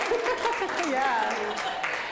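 Conference audience at a vacation rental women's summit clapping, a brief steady patter of many hands that runs under overlapping talk and voices throughout.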